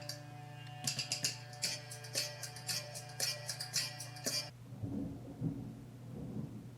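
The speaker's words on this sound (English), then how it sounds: "It's really apropos that thunder is occurring right now, and it's very loud." Loud, close rumbling thunder rolls and crackles for several seconds during a storm, then fades into a lower, softer grumble.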